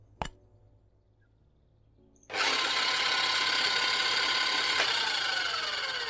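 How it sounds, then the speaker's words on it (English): Three eggs whisked in a bowl in the Cooking Simulator video game, a sharp click and then a steady, loud, continuous mechanical whirring rattle that runs to the end. "Three eggs. Whisk them up."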